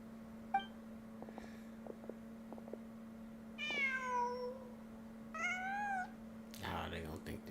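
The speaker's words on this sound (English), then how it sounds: "Just a cat." A cat in Genshin Impact meows twice in clear, drawn-out calls over a steady electronic hum, with soft beeps and a closing thump; nobody speaks.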